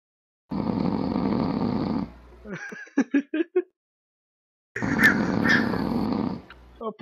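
A man snoring over TeamSpeak voice chat: two long, loud, rasping snores, with a brief stretch of chuckling voices between them.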